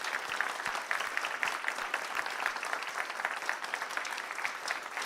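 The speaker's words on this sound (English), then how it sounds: "Can we just give Derek a big round of applause?" An audience applauds for a speaker named Derek at a talk: steady, fairly quiet clapping from a medium-sized crowd, dense and continuous for the full stretch without any voices on top.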